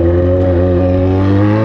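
A motorcycle engine runs through its exhaust with a steady, loud, close rumble, holding an even throttle for the whole short stretch.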